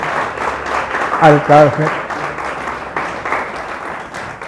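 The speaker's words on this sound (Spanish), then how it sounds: "dale un aplauso fuerte a ese mi Dios" A church congregation applauds continuously at a moderate level while someone speaks briefly over the clapping.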